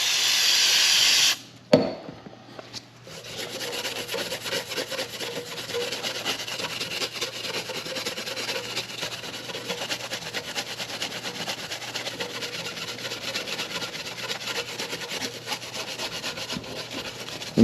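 A Scotch-Brite pad scrubs the deck of a Hyundai cylinder head, opening with a brief spray hiss, then a steady, close rasping scrub that runs continuously with no talking.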